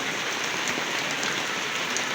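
Heavy, unbroken rain pours down during a rainy town fiesta, a dense, steady hiss of drops striking surfaces nearby with no pauses and no voices.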